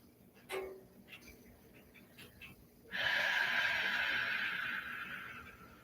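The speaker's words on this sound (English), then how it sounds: "half of what you hear is my breath." Steady, close breathing lasts several seconds after a brief sharp intake near the start, with a loud hissing exhale-like rush in the latter half.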